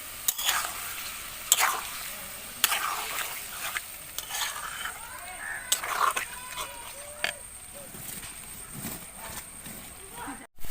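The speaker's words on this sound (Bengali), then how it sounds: "এরপরে সব কিছু আবারও আমি ভালোভাবে নাড়াচাড়া করে নেব খানিকক্ষণ।" Kashmiri chicken and fried spices being stirred in a pan, with intermittent scraping and clattering strokes over a soft sizzle, close and moderately loud.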